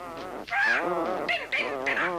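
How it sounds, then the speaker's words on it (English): Several birds squawk and honk loudly in quick overlapping bursts, a harsh, noisy racket close by. "all these birds are making such a racket"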